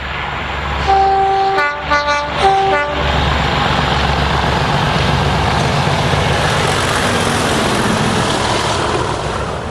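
DRS Class 37 diesel locomotives 37601 and 611 hauling a Barclay to Crewe nuclear flask train on the Lickey Bank, sounding a few loud horn toots early on, then a sustained heavy engine roar and rumble as the train passes close by.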